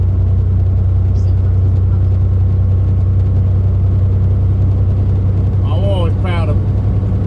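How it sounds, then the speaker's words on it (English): A loaded semi truck known as Blue holds top gear while climbing a hill at about 1300 RPM and 55 mph, giving a steady loud low cab drone and rumble throughout, with a brief squeak near the end. "So she holds it in top, climbing the hill, we're down to like 1300 RPM."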